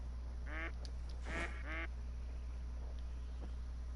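A duck quacks in the hunting game Call of the Wild, with two or three clear nasal quack bursts close together over a steady low background hum, and no talking.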